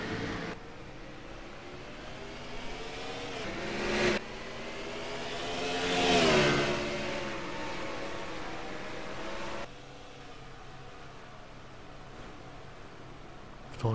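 Race cars on a road circuit, Circuit Gilles Villeneuve, roar past as a continuous engine drone that swells to a peak and fades as a car passes, with no talk.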